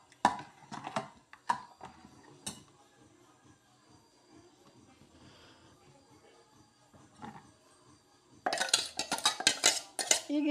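Ground coconut paste is mixed in a bowl for a yogurt gojju, with scattered spoon scrapes and clinks against the dish, quiet in the middle and then a brisk burst of louder clattering stirring near the end.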